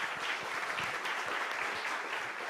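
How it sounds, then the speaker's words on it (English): Audience applause fills a hall at a Latin American artificial intelligence conference, a steady, even patter of many hands clapping at a fairly soft, distant level throughout. "thank you for the applause"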